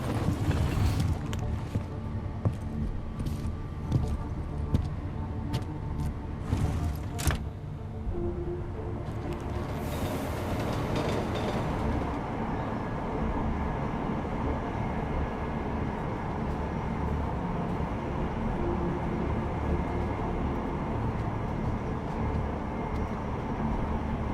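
Steady rumble of a train ride in the video game Deus Ex: Mankind Divided, a continuous low drone with faint clicks early on and no talk.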